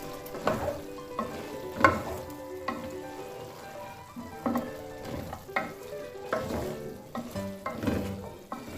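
Mixed vegetables with capsicum frying in a pan as a spoon scrapes and stirs through them, with light sizzling under irregular clinks and scraping strokes, fairly close and with no talking.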